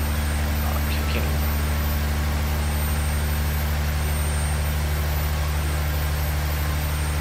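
A turbocharged diesel engine built in the game Automation runs at a steady, loud drone with deep rumbling tones throughout, a faint higher whine riding on top.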